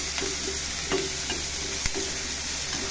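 Garlic, green chillies and onions sautéing in a hot pan, a steady close sizzle with a few soft stirring scrapes and one sharp knock, no voices.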